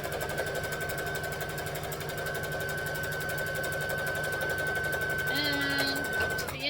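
A sewing machine stitches rayon fabric up to the end of a seam and backstitches, with a steady close mechanical hum and rapid needle ticking throughout, shifting pitch briefly near the end.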